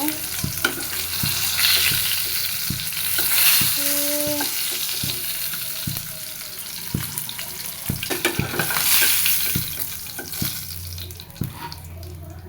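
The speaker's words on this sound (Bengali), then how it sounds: "মাছগুলো ভাজি করা হয়ে গেছে এবার এক এক করে মাছ নামাই নেব" Fried fish crackling loudly in hot oil through the whole stretch, with sharp clicks and knocks as the pieces are lifted out one by one during home cooking.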